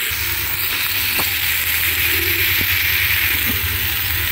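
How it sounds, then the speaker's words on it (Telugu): Tomatoes and fresh mint sizzle steadily in a hot pan, a loud, even frying hiss running throughout with a few faint clicks of stirring and no voices. "నెక్స్ట్ మనం తీసుకున్న పుదీనా వేసేసి కాస్త పచ్చివాసన పోయేంత వరకు జస్ట్ ఫ్రై చేసేసుకుందాము"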